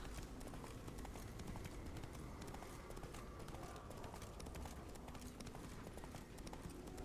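A horse galloping in the video game The Witcher 3: a steady, busy clip-clop of hooves running without a break under a dense wash of game sound.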